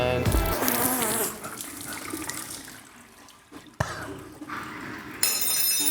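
Water sprays and splashes from a porcelain bidet, a steady rushing hiss that breaks off and then surges back in bursts, close by with no talking.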